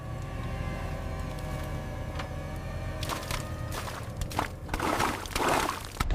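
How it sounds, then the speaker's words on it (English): An automatic winch drags an abandoned police Ford, sunk in a swamp for 40 years, out of the water: a steady low mechanical drone runs throughout, with sharper scraping and splashing bursts building toward the end. "Now we pull with the automatic winch."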